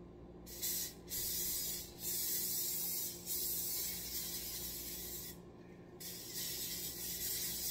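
Several hissing bursts of cooking spray, each lasting about a second or more with short pauses between, close by and fairly steady.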